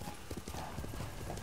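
A horse in Ghost of Tsushima clip-clops along in a quick, even hoof rhythm under a wash of ambient game noise, with no clear neigh standing out.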